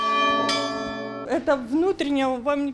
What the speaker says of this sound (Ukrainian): Доторкнутися до церковного дзвону спробувати може кожен.